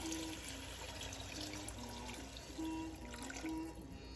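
Beef broth pouring into keema curry in a pan, heard as a faint, steady liquid trickle and splash lasting about four seconds, alone without talk.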